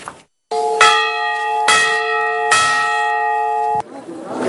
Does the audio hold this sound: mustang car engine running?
no